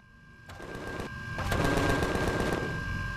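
Automatic turret gunfire in the space survival game Empyrion - Galactic Survival, a steady stream of rapid shots that builds and grows louder partway through, continuing without any talk.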